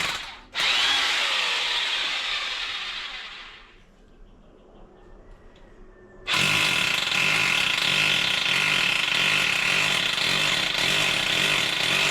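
A power drill bores a hole for an expansion bolt, starting with a loud whirring burst that fades out, followed after a brief lull by a second sustained, steady run of drilling.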